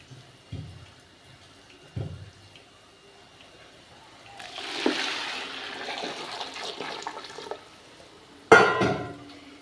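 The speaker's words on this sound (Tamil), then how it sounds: "அந்த தண்ணியை வந்து ஃபுல்லாக இதில் சேர்த்துக்கலாம்" After a couple of soft knocks, water pours into a cooking pot for ghee rice with a steady splashing rush for several seconds, then a louder clatter follows.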